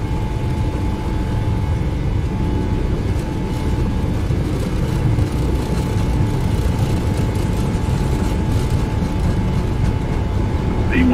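Boeing 737 jet engines at takeoff thrust in a flight simulator, a loud, steady broadband roar that holds constant throughout with no breaks.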